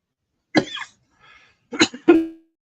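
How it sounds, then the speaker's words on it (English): A few close, sharp coughs in separate bursts, the last one trailing into a raspy throat sound, with quiet pauses between. "I've had a tickle cough developing"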